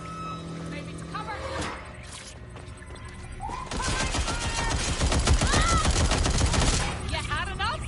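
Gunfire in the shooter game Watch Dogs Legion: a few scattered shots early, then a dense burst of rapid automatic fire with impacts and ricochet-like squeals, fairly close, with game voices talking around it.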